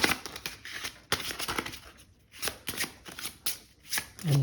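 Spell cards for the board game In The Hall Of The Mountain King being shuffled by hand, a run of crisp riffling bursts in quick succession with brief pauses between, close and clear with no talking.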